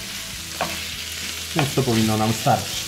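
Meat filling with peppers for stuffed crepes sizzles steadily in a pan, with stirring scrapes and someone speaking briefly over the close frying.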